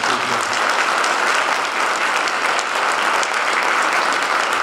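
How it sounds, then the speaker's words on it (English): A crowd claps steadily and loudly throughout, a dense, sustained round of applause with no voices rising above it. "How about a nice round of applause for the speaker?"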